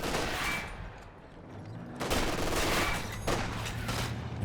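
An LMG fitted to German grenadiers in Company of Heroes 2 rattles in sustained bursts, with a pause and then renewed loud firing among battle noise.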